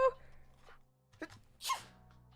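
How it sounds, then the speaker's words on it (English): A single sharp sneeze bursts out near the end after a quiet breathy lead-in, close and fairly loud. "Oh no, another sneeze, another sneeze."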